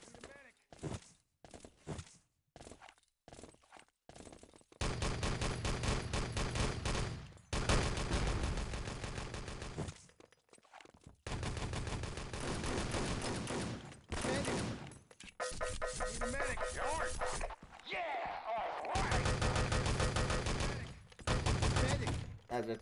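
Video game gunfire from an MP40 submachine gun during a 3v3 LAN match, loud repeated automatic bursts and fusillades filling most of the stretch, with brief gaps and scattered single shots between them.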